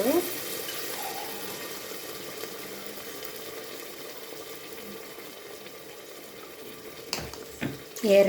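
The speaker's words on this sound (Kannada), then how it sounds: "ಈಗ ನಾನು 1 ಗ್ಲಾಸ್ ರೈಸ್ ಇಕ್ತಾ ಇರೋದು, ಅದಕ್ಕೆ 2 ಗ್ಲಾಸ್ ನೀರು ಹಾಕ್ತಾಯಿದ್ದೀನಿ" Water runs steadily from a glass onto raw rice for biryani, two glasses of water to one of rice, for several seconds at moderate volume, tailing off near the end with a few brief clatters.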